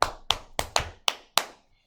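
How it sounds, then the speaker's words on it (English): Six sharp hand claps sound close by in an uneven rhythm, each one loud and short with a brief ring afterward, and then stop. "Julia, clap your hands."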